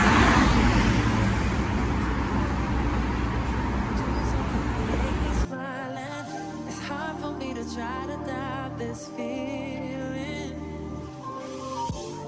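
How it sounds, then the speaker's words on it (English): City traffic rumbles around a bus ride, with a loud, broad roar of passing cars at first, then a quieter stretch of engine hum and road noise mixed with faint voices and tones. "let's go take the bus"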